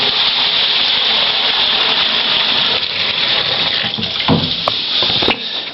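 Water gushes steadily and loudly into a wheelie bin at home, a continuous broadband pour with some splashing near the end, collected for toilet flushing.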